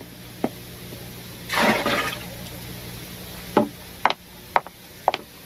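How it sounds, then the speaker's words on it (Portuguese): Clean water thrown over a car while washing it: one short splashing gush of water, followed by a few sharp knocks and taps, close by with no talk. "Agora só falta jogar a água limpa."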